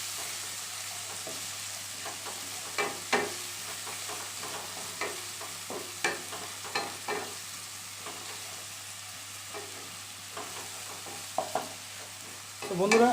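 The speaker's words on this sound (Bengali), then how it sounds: "এবার নিয়ে জাস্ট একবার নাড়িয়ে দেবো ভালো করে জাস্ট" Onion paste and fried onions being stirred in a pan for Bengali katla fish kalia, a low steady sizzle under scattered spatula scrapes and taps, louder clatter at the end.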